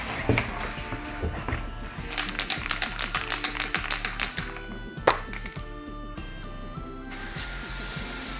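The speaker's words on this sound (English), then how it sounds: "apply a layer of spray glue over the top before attaching the grip" Spray glue being applied over a recycled plastic skateboard deck before grip tape goes on, heard as rapid rhythmic hissing bursts and taps, close and fairly quiet, ending in a longer steady spray.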